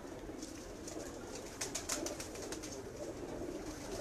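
Breeder pigeons cooing softly in a loft, with a few low, rounded coos bunched near the middle of a quiet four seconds and no talking.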